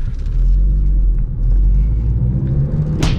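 A 9th-generation Honda Civic Si engine on its factory tune runs with a loud, steady, close low rumble throughout, ending with a brief sharp burst of noise.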